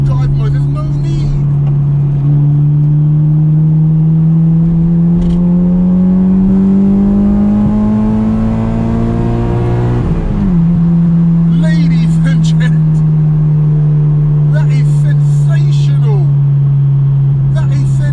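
A Honda Integra DC2 Type R's VTEC engine revs hard and climbs steadily in pitch through a gear on the road, drops sharply at the shift, then settles into a lower drone, with someone talking over parts of it.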